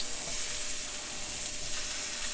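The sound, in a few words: roasted sweet potatoes sizzling in a hot pan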